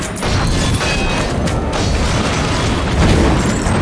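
A heavy, continuous boom fills the scene in Risk of Rain 2 as an enemy detonates on kill, a loud, dense low rumble sustained for several seconds with crackling debris on top and no speech.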